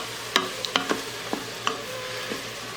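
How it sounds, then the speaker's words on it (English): A utensil scrapes browned bacon bits from the bottom of an Instant Pot insert while deglazing, giving several sharp clicking scrapes spread across a few seconds over a steady low sizzle, close up with no talking. "to deglaze the bottom of our Instapot there"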